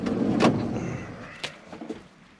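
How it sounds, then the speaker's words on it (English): A campervan door being opened, a short rattling slide and clunk of the metal door followed by a few lighter knocks, close and alone. "Let's open this door."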